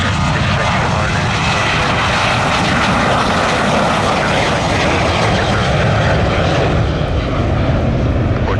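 Airplanes at Orlando International Airport roar loudly and continuously as engines run at close range, a broad steady roar with no pauses.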